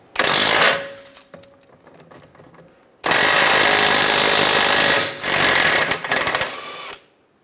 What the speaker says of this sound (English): Using a 19 millimeter socket, take this nut off.